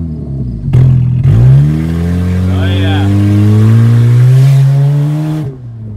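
A Saturn car engine revs up loudly and climbs in pitch over several seconds, then cuts off abruptly.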